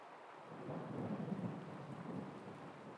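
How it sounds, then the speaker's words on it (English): Rain and rolling thunder in the video game Zelda Tears of the Kingdom: a steady wash of rainfall with a low, sustained rumble swelling in the middle, fairly quiet overall with no talking. "Oh, it's raining."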